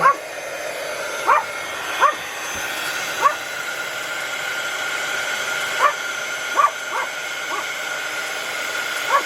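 A heat gun blows with a steady whirring hum while dogs nearby let out short sharp yaps and whimpers every second or so.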